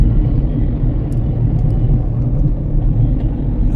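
A car cruises in top gear along the straight Delhi road toward Ambala, with a steady low engine and road rumble throughout, no talking.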